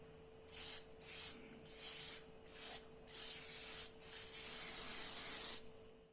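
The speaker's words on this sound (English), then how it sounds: "Grease the pan with butter or spraying oil." Repeated short hissing bursts of a cooking oil spray greasing a cake pan, about six quick pumps followed by a longer continuous spray, close up.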